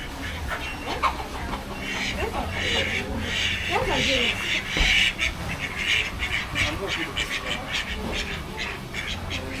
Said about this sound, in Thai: นี่มีน้องเป็ด